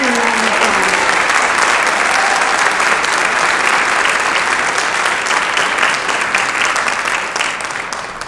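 A large audience at a community benefit event bursts into loud, dense applause that holds steady for several seconds, then tapers slightly at the end, with no talking.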